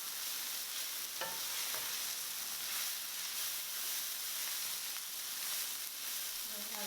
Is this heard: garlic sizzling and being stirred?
yes